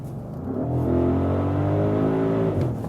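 Luxury SUV coupé engine accelerating in dynamic drive mode, a steady loud engine note with rising harmonics held for about three seconds, no talk.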